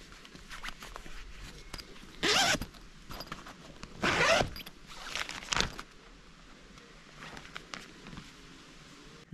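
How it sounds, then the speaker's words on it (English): Zipper on the stove jack flap of a Pomoly Chalet 70 hot tent, pulled in three or four quick, rasping strokes over faint rustling outdoors. "It's also got the flap that covers the top of that zips on from the outside."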